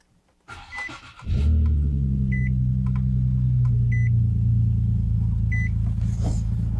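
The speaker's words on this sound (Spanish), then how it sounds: "el motor encendió muy fácil" A car engine cranks and starts after a jump start from a nearly flat battery, catching quickly and settling into a steady, loud idle, with a few faint electronic beeps over the running engine.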